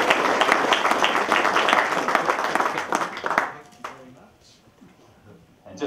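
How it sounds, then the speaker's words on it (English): Crowd applause at a handover gathering for the Jean Batten DC3 aircraft, dense clapping for about three and a half seconds before fading to scattered claps and quieter background sound. "we give you all another round of applause"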